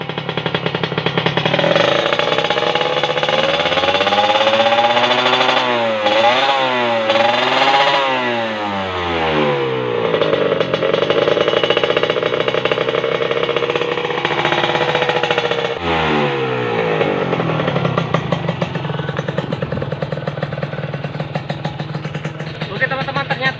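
A Kawasaki Ninja motorcycle engine runs on a mix of premium, Pertamax and Pertalite fuels, loud and close, with a steady roar and several rising and falling revs in the middle.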